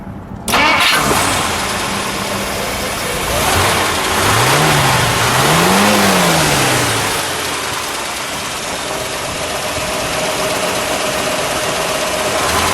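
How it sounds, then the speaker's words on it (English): A 1958 DeSoto Firesweep convertible engine cranks and catches, then settles into a loud idle with a couple of rising and falling revs before dropping back to a steady rumble. "I'll listen to the idle exhaust through the bumper, and then we'll give it a rev"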